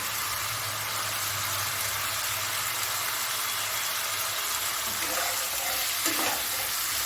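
Spices sautéing in a pan with pointed gourd and potatoes, a steady broadband sizzle throughout with faint scraping stirs near the end, no talking.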